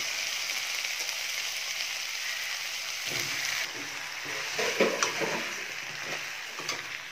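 Brinjal pieces sautéing with onion and tomato in a pan, giving a steady soft sizzle with a few light scrapes and stirring clatters toward the end, close and alone.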